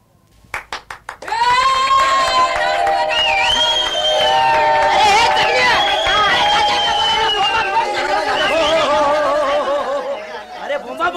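A theatre audience at a Marathi comedy play claps and whistles: a few sharp separate claps open, then loud, sustained applause and crowd hubbub with shrill whistles rising and falling over it for about ten seconds.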